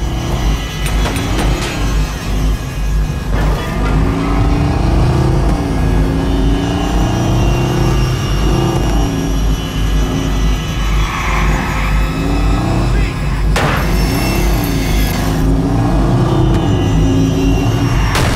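Car engine in the Watch Dogs video game, a loud steady engine roar running continuously, with sweeping rises and falls in pitch as the vehicle speeds off, mixed with game background sounds.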